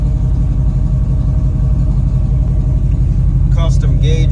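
A 1969 Chevrolet Camaro engine runs at a steady idle, a loud, deep, even rumble right up close, with a voice speaking briefly near the end.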